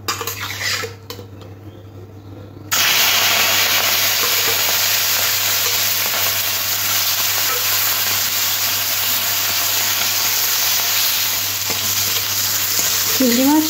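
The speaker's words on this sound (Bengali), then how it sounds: "কড়ার মধ্যে আগে থেকে তেল গরম বসিয়ে দিয়েছি, আর তেলটা গরম হয়ে আসলে নুন হলুদ মাখানো চিংড়ি মাছগুলো তেলের মধ্যে দিয়ে একটু হালকা" Salt and turmeric coated prawns dropped into hot oil in a kadai: a short quiet stretch, then a sudden loud, steady sizzle that holds to the end, with faint utensil clinks.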